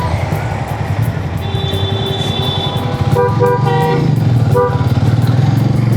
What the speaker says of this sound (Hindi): देख रहे हो, लड़का चला रहा है हमारा बाइक